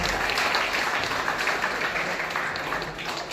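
A crowd applauds at a marathon event in Talasari, producing dense, sustained clapping that stays loud and even throughout, with no clear talk over it.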